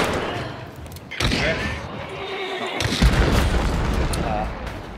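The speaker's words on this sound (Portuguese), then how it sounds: "Explodiu um barril." Barrel exploding in Hunt: Showdown, a sharp blast about a second in followed by another heavy burst and rumbling game noise, with voices talking over it.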